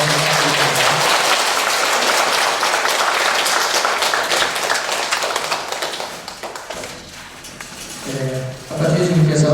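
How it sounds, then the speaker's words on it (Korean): A large audience claps steadily and loudly at a Buddhist college and scripture class entrance ceremony at Gilsangsa temple, the applause thinning and fading before a voice comes in at the end. "길상사 주지님께 큰 박수에 감사드립니다"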